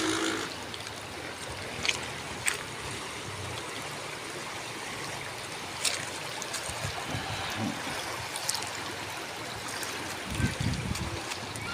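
A river in Lambunao, Iloilo rushes and burbles steadily close by, a continuous broad wash of flowing water with occasional louder splashes and knocks.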